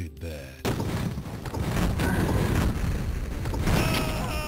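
Gunfire from the video game Duke Nukem 3D bursts in dense, rapid volleys with booming impacts, loud and continuous across the clip.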